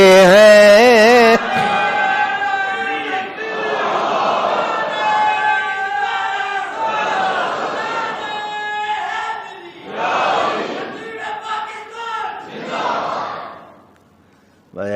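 Crowd at an Islamic sermon on the Battle of Badr chanting slogans in loud, rising group shouts, a harmonic call-and-response swell that fades out at the end.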